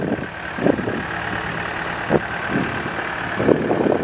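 A 2014 Takeuchi TB285 excavator idles steadily while swinging its boom, with a continuous engine drone and a few clunks and hydraulic bursts over it.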